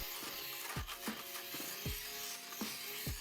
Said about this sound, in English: we can use a fabric shaver to remove the lint on the insides